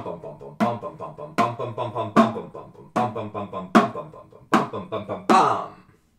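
A wind instrument plays Ferling Etude 26 in short separated note groups, each burst of quick notes followed by a brief pause, clear and close in a steady recurring pattern.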